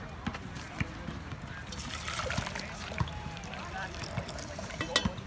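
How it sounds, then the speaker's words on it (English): Boiling water, about a liter, is poured into a saucepan on a stove, giving a soft, irregular trickling and splashing with scattered clinks, fairly quiet and close, while a person talks faintly. "So first we'll put in the 1 liter of boiling water."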